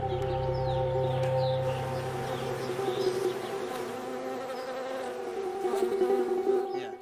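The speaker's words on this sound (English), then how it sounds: "Every spring, billions of bees are brought here to help pollinate the almond trees." Honey bees buzzing as they pollinate almond trees in spring: a dense, continuous drone from many insects close by, steady and loud throughout with a few bees passing nearer, and no voices.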